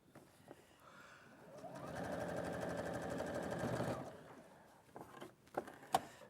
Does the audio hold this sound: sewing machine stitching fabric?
yes